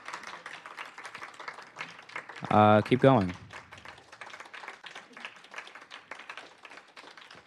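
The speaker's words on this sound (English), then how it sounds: "Now we meet the sponsors. Everybody clap." A short burst of audience clapping for sponsors at a spring education session on digital forensics, about a second of loud applause amid quieter background chatter and talk before and after.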